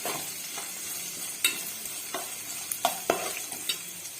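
Pan frying for a mushroom bread sandwich: a steady sizzle runs throughout, broken by scattered stirring clicks and scrapes of a spatula against the pan, close and moderately loud.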